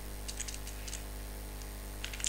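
Computer keyboard keys tap in two short bursts, light close clicks over a low steady hum, with a quiet gap between them and no talking.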